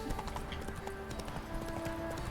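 A horse in The Witcher 3 video game trots with steady rhythmic clip-clop hoofbeats, close and clear over faint in-game ambience.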